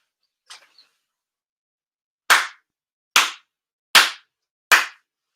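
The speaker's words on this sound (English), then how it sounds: "4 sincere claps." Four sharp ritual hand claps at a shrine ceremony ring out alone in a quiet space, evenly spaced under a second apart, each crisp and close with a short decay, after a faint small noise.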